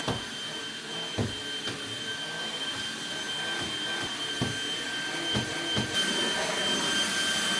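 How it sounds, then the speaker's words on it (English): A vacuum cleaner works over bedroom floors, a steady whining motor drone that carries on throughout, broken by occasional bumps and knocks as the head is pushed around. "I'm gonna go feed the dogs and quickly vacuum our bedroom."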